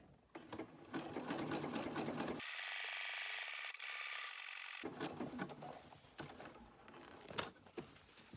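A sewing machine runs a zigzag stitch along the edge of fabric for a sewn hexagon bowl, a steady close motor whir lasting a few seconds between quieter handling and rustling.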